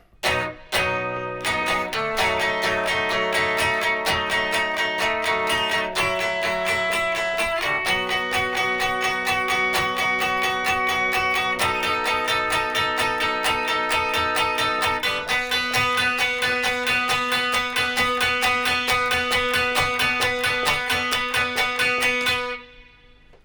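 Electric guitar strumming the bridge chords of a song, steady and ringing in a driving rhythm for about twenty seconds, then cutting off abruptly.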